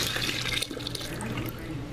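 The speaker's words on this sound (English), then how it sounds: "you fill a 5-gallon bucket halfway through with hot water" Hot water running steadily from a tap into a 5-gallon bucket, a continuous broadband rush of filling water with no talking.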